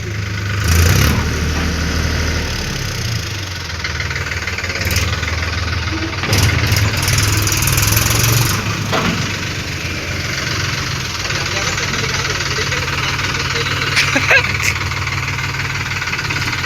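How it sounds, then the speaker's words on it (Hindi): A tractor engine idles steadily with a low rumbling throb, near and continuous, while people talk over it and occasional knocks sound. "ये भी ट्रैक्टर चालू होना चाहिए।"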